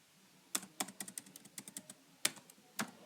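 Irregular bursts of computer keyboard keystrokes as Java code is typed, crisp close clicks arriving in quick clusters separated by short pauses.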